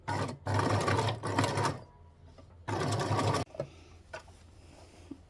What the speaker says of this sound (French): on vient surpiquer donc par-dessus. Donc on garde le point extensible.